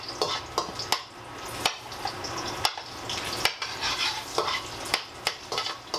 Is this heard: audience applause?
no